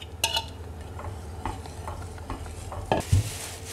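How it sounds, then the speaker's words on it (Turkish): Spinach in a yogurt soup is stirred in a pot, with a spoon scraping and clinking against the metal in a steady, close rhythm over a low simmering hiss. A louder knock comes near the end. "O yüzden ıspanaklarımı yumuşayana kadar karıştırıyorum."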